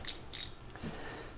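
Socket wrench on an extension ratcheting against a car AC compressor bolt during a compressor replacement, a short series of quick, close clicks with no talk.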